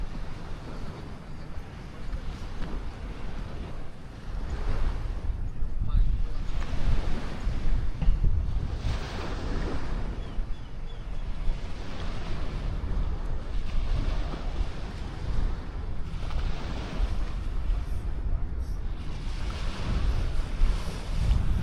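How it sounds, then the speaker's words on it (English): Ocean waves washing onto the sand at a beach in Playa del Carmen, a steady broad surf wash with slow swells under wind noise, no talking. "The sound of the waves."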